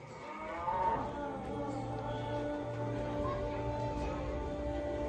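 A cow moos close by in a rural village setting, one long drawn-out, tonal low call that carries over the whole stretch without talk.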